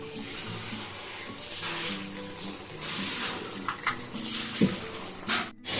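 A pomfret fish curry with mustard oil boils in a pan, giving a steady, close bubbling hiss that holds without a break and has a few louder pops near the end.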